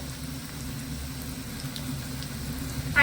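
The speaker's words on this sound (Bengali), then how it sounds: "আমি একটু মুচমুচে করে উল্টে পাল্টে লাল করে ভেজে নেবো" Vegetarian cutlets deep-fry in oil until crisp, giving a continuous close bubbling sizzle with faint crackles, steady and unbroken for a few seconds.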